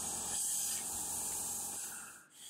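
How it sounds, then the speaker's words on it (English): A steady pressurized spray of polyurea coating onto water in a cardboard box hisses continuously up close, then briefly cuts off near the end. "By spraying directly onto water in a cardboard box"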